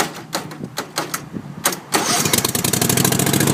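A Craftsman lawnmower, fed by jumper cables, cranks with a few uneven chugs before its small engine catches and settles into a steady, rapid, loud idle close by.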